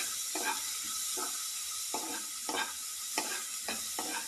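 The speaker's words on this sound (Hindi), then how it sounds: "और इस तरह से हम इसको चलाते जाएंगे" Food browning in a pan over low to medium heat while dal makhani is prepared, a steady sizzle broken by repeated scraping stirs roughly every half second, close and fairly soft, with no talking.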